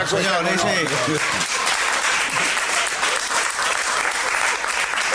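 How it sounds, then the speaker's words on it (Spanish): Loud, dense applause from a large live audience at a talk about relationship infidelity, sustained throughout with voices shouting over it at the start. "cuánta gente que aplaude"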